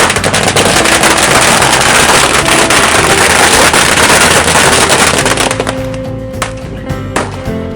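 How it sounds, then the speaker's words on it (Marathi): A loud, dense barrage of firecrackers at a footbridge inauguration celebration in Sangameshwar crackles continuously, then thins to scattered sharp pops. "फटाक्याची आतिषबाजी करत जल्लोष साजरा करण्यात आला"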